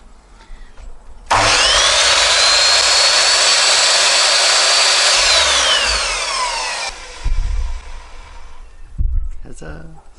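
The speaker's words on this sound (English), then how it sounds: "Right, to the cutting device." A power saw cuts through wood for boxing out the wheel wells of a VW Crafter van conversion, a loud steady whine lasting about five seconds that slowly winds down, followed by a few knocks and handling sounds.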